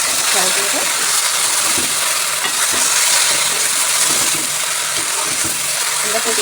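Fried katla fish curry is stirred in a pan, with loud steady sizzling and hissing and irregular scraping stirs throughout.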